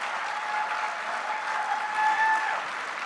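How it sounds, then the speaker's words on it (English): Audience applause at a comic convention main stage performance, a steady dense wash of clapping holding at moderate level for a few seconds, slightly swelling near the end. "A huge round of applause to her performance, I think, is in order."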